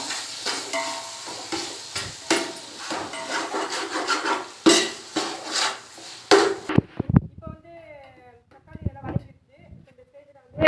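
Tomato and onion get stirred in a cooking pot for chicken biryani, with rhythmic scraping and rubbing strokes over a light sizzle that thin out partway, while a person talks.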